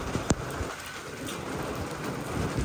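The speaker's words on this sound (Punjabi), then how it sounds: "ਬਾਰਿਸ਼ ਜਿਹੜੀ ਆ ਨਾ ਅਚਾਨਕ ਹੀ ਸ਼ੁਰੂ ਹੋ ਗਈ ਆ" Heavy summer rain pours down suddenly on a village home, a dense steady hiss of drops hitting surfaces, with one sharp click early on and no voices.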